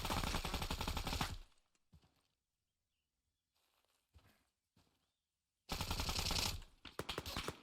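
Automatic rifle fire in Arma 3 with a close-quarter optic, loud rapid bursts at the start and end separated by a quiet gap with a few faint distant shots.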